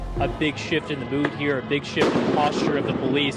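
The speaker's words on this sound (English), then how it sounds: "You can probably hear some explosions taking place there behind me." Explosions and sharp bangs boom behind a news reporter while police and sheriff's deputies move to clear protesters; several loud, irregular blasts sit under continuous close talking, heaviest toward the end.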